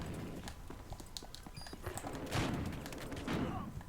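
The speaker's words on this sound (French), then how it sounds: "Pourquoi j'entends des bruits de fusil à pompe là, c'est quoi ça?" Shotgun fire in the shooter game Battlefield Hardline, a series of sharp distant gunshot bursts over busy in-game noise, with a couple of louder blasts toward the end.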